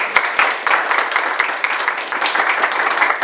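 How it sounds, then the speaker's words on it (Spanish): Audience at a specialists' panel on the UNAM strike applauds a speaker, sustained loud clapping with a few sharp individual claps standing out. "Fuerte aplauso para ella, por favor."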